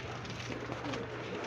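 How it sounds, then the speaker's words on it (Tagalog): Pigeons coo softly in a steady, low, continuous murmur close by, near a nest where eggs are starting to hatch, with no one talking. "Ito yung ating mga kalapatids ng kalapate."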